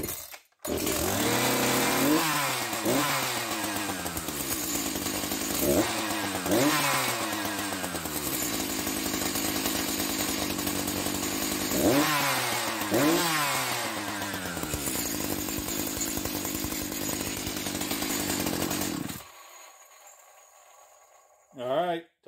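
A chainsaw that sat unused for months runs after starting, a loud raspy engine repeatedly revving up and dropping back over a steady idle before cutting off near the end.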